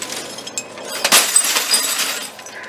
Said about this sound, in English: No, because glass shatters.